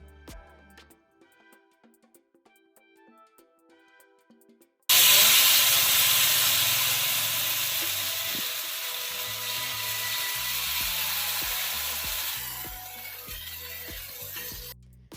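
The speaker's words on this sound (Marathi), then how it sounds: "तवा गरम आहे त्याच्यावर अजून तेल टाकू आणि हे भाज्या मिक्स केलेलं बॅटर तव्यावर टाकू" After a few seconds of quiet clinking, a loud, steady sizzle bursts out as vegetable uttapam batter hits an oiled hot griddle, hissing continuously and fading slightly with light scraping taps.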